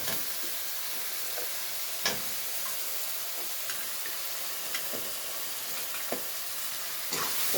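Potatoes and peas fry in a pan for a vegetarian paneer dish, a steady loud sizzle going on throughout, broken by a few sharp clicks and scrapes as a spoon stirs them. No voices.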